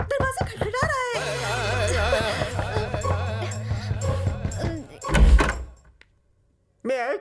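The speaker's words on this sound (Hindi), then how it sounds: "दरवाजा खटखटा रहा है।" Knocking on a door during an indoor Hindi film scene: a few sharp raps near the start and a heavier thud later, heard under voices talking over a tonal background.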